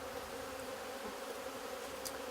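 Honey bees buzz steadily inside a jar as powdered sugar is worked through a mesh screen over them for Varroa mite monitoring, a continuous close hum with no talk.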